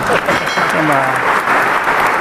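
A crowd at a National Sports Day felicitation in a sports complex in Manchar claps loudly and continuously, with a voice speaking over the applause.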